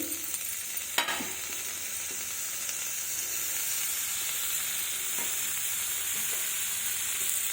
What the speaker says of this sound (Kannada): ಸ್ವಲ್ಪ ಎಣ್ಣೆನ ಹಾಕಿ ಫ್ರೈ ಮಾಡ್ತೀನಿ ಇದು ಚೆನ್ನಾಗಿ ಫ್ರೈ ಆಗಬೇಕು